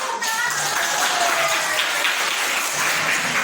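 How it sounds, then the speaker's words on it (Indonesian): A classroom of students applauding a group's correct answer in a geometry lesson, a dense steady wash of clapping throughout with faint voices mixed in. "Beri tepuk tangan."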